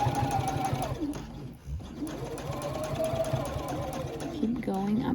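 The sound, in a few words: sewing machine stitching crossbody bag side seam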